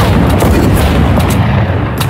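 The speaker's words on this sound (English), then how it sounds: "A sniper." Sniper rifle fire in the Fortnite battle royale game: a few sharp, loud cracks over a dense, rumbling background of battle noise, with no talk.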